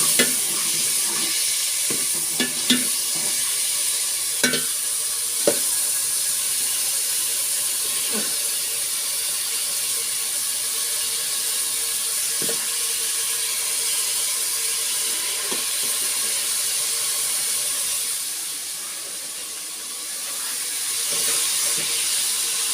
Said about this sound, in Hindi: कड़कड़ा रहा है बिल्कुल, और इसको कड़कड़ाते हुए ही हम इसके अंदर टमाटर डाल देंगे।